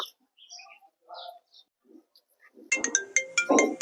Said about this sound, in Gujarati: હા પાછો ઓલાનો ફોન આવ્યો.